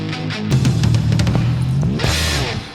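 A song from a band's 1978 debut album plays from a vinyl record in a short, loud burst of drums and guitar with no voices over it.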